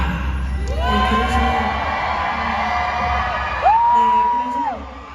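A crowd of K-pop fans screaming and cheering for IVE at a Thai fan event, with high-pitched whoops rising over a steady roar, one shrill rising squeal standing out near the end.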